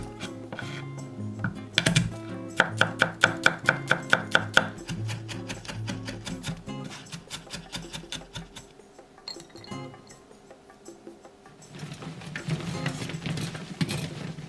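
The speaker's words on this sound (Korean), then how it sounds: "통마늘 20개는 굵게 다졌다." A knife coarsely chops twenty whole garlic cloves on a board in a fast run of sharp, even strikes, close and clear, then slower scattered cuts, with no talking.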